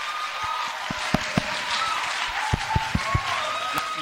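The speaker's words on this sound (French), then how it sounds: "Est-ce que tu peux acclamer très fort?" A church congregation applauds and cheers, with a dense wash of clapping and voices, scattered sharp claps standing out, fairly loud and continuous.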